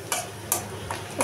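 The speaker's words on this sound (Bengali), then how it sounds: "পেঁয়াজটা আমার লাল লাল করে ভাজা হয়ে গেছে" Onions frying in a pan until reddish brown, a soft steady sizzle broken by a few sharp scraping stirs of a utensil against the pan, close and moderately quiet.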